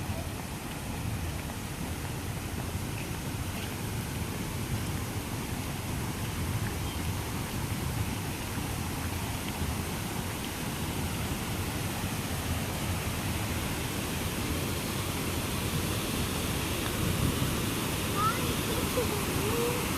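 Steady broadband rush of water pouring over a dam next to a bridge at a recreational park, continuous and fairly loud throughout with no clear break.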